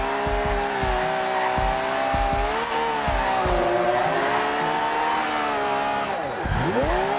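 A 2013 rear-wheel-drive Mercedes-Benz E63 AMG drifting through corners in Forza Horizon 2, its engine droning steadily at high revs while the tires squeal continuously. The pitch sweeps down and back up near the end, with no talking.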